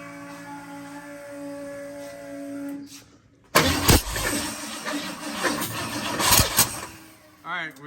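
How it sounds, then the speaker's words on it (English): A 1953 Ford F100 pickup with a 351W V8 and FiTech fuel injection cranks: a quiet hum first, then a sudden loud burst of starter churning and engine sputter that runs several seconds before cutting off, close up. "We're gonna put some gas in it and we'll try to fire it."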